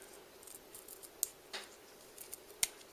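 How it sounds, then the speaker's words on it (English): Scissors snip holographic tape to size while tying a fishing fly, giving a few faint, close, crisp cuts spaced apart in a quiet room. "A bit of my holograph tape, just cut to size."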